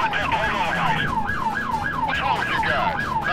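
Police car siren in a driving video game, a loud, close wailing siren sweeping up and down in quick, regular cycles above the hum of the car.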